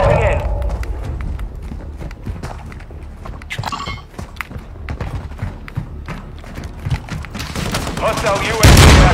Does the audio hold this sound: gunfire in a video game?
yes